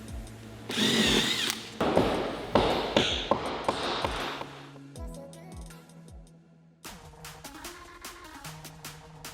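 Power buffer working over an old piece, a loud whirring motor in repeated bursts, spinning up and winding down with clanks and taps between runs.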